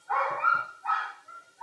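A dog barks close by indoors, two loud barks in quick succession followed by a softer trailing yelp.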